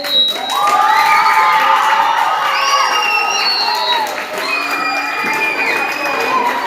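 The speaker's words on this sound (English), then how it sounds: "Yes, please continue clapping" A school crowd at a high school in Ibadan, Oyo State, cheers and claps continuously, children shouting and whooping over steady applause, loud and close, with a voice speaking through it.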